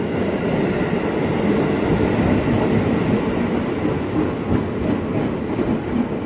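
A KRL commuter train rumbles through Depok station at close range, its wheels clattering steadily over the rails with a few sharp clicks of the track joints and no speech.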